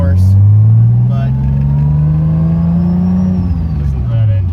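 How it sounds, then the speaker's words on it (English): A 600HP MK3 Toyota Supra engine revs steadily while driving, its loud, close exhaust tone rising slowly then dropping, with brief speech-like sounds on top. "listen to that engine"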